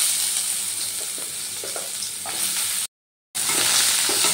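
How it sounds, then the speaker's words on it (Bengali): Cut pointed gourd (potol) pieces sizzle loudly in hot oil in a pan, a dense steady crackle with occasional stirring scrapes, broken by a brief silent gap. "এবার আমি ওই তেলের মধ্যে দিয়ে দিচ্ছি কেটে রাখা পটলগুলো।"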